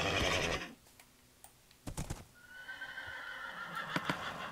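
A horse in Minecraft whinnies loudly at the start, followed by scattered hoof clops and clicking sounds, then a faint high tone.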